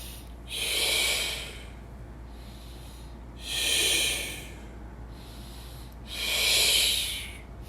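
Forceful breathing for a Pilates exercise: three slow, strong exhales through a relaxed mouth, spaced about three seconds apart, breathy and close, with no talking.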